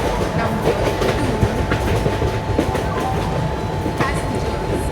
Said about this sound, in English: Train number 12269 Toronto Express is arriving at platform